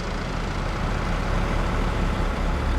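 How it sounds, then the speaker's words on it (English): Several trucks idle in Farming Simulator 22, giving a steady, low engine rumble that holds at an even level throughout with no talk. "These trucks are idling."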